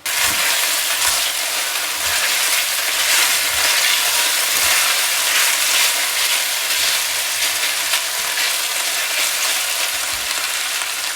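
Cheesesteak meat fries in a pan with a loud, continuous sizzle and crackle, broken by occasional soft scrapes and stirs, with no talking.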